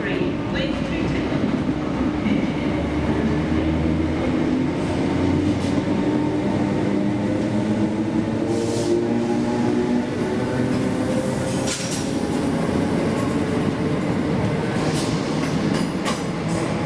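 Northern Class 319 electric train, unit 319378, at Preston station, rumbling and whining past close by with a steady loud roll, rising motor tones, and brief squeals and clicks toward the end.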